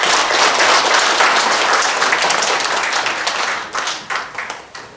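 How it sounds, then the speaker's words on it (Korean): A hall audience at an anniversary ceremony and lecture gives loud, full applause for the arriving guest lecturer. The dense clapping thins toward the end into a few scattered, separate claps. "나오실 때 여러분 아낌없는 박수 뜨겁게 보내주세요"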